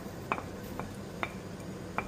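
A chopped onion and garlic mixture being stirred in a pan, four light clinks of a utensil against the pan spaced at a slow, steady pace over a faint background.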